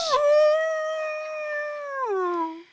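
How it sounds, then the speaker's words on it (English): A single drawn-out canine howl, loud and clear, holding a steady pitch before sliding downward and fading out near the end, heard alone without other sounds. "a howl rang through the gym, interrupting the principal mid-speech"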